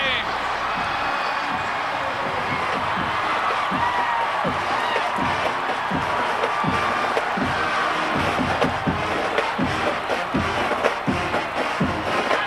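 A college football stadium crowd roars after an Oklahoma State touchdown against Texas, a steady loud wall of cheering and clapping with rhythmic thumps, and a commentator's voice talking over it.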